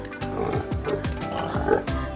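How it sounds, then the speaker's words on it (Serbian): A warthog grunts in the African savanna: a quick, steady series of about seven short, rough grunts, moderately loud and close, with no speech. "bradavičasta svinja"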